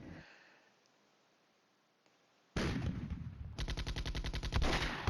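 Artillery strike in the wargame Flashpoint Campaigns: Red Storm, heard after a quiet opening as a sudden loud blast, then a rapid run of regular sharp impacts that continues to the end.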